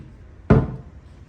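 The fridge door in a Courtyard Penang hotel guest room opens or shuts with a single close, solid thud that fades quickly against a quiet room.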